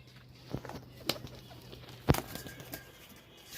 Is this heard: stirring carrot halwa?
no